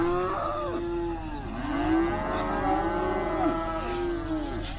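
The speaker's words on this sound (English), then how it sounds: "I don't even know if you can hear the few that are bawling over their compressor." Cattle bawling in long, drawn-out moos, several overlapping calls rising and falling over a steady compressor drone.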